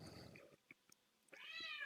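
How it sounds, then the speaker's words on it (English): A house cat meowing indoors, close by, with a short mew at the start and a longer rising meow at the end, a few faint clicks between. "The cat just loves to meow while I'm doing my trader bites here from home."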